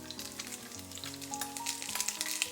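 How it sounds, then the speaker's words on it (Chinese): Pork belly stir-frying in hot oil in a wok with sliced ginger and shredded garlic, a steady loud sizzle crackling throughout with the spatula stirring through it, close up and no speech. "然后继续给它煸香"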